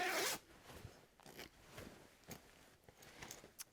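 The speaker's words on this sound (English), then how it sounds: "make sure that the main zip is fully done up" A sleeping bag turned inside out has its main zip pulled closed: one loud, quick zipping stroke at the start, then softer fiddly rustles and small clicks of the fabric and slider, close up.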